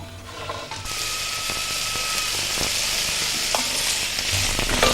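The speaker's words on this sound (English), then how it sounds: "Now I'm just going to saute these vegetables off in a little bit of olive oil." Vegetables hit hot olive oil in a pan and sauté with a sudden loud sizzle that settles into a steady, close crackling hiss, with faint stirring clinks and no talk.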